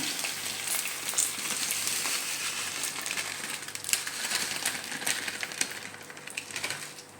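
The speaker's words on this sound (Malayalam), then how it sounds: "ചൂടായ നെയ്യിലേക്ക് ഞാൻ" Dense, crackling sizzle of vermicelli frying in hot ghee, close and continuous with fine popping throughout.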